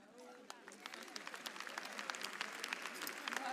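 Applause from an auditorium audience at a live New Year comedy show in Abidjan, a faint, steady patter of many hands clapping with scattered sharper claps throughout.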